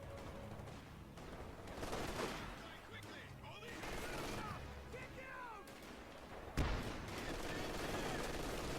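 Machine gun and artillery fire from the Company of Heroes 2 video game, repeated bursts and booms rattling in the background with a sharp loud impact near the end, while a commentator talks over the battle.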